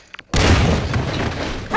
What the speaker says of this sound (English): It was a grenade, and somebody was hiding in the little pass-through in the freezer.